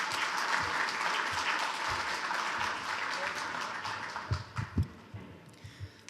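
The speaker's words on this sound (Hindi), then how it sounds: "ज़ुबैर भट्टी साहब के लिए बहुत सारी तालियां" An audience applauds a poet at a humorous poetry gathering, steady dense clapping that gradually thins out into a few last scattered claps.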